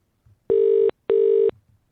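Two long, steady electronic ringback tones on a telephone call placed through Skype to a landline, each about half a second, separated by a short gap, loud and clear with no talk.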